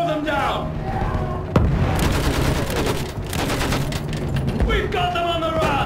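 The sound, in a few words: machine gun fire in the video game Battlefield 1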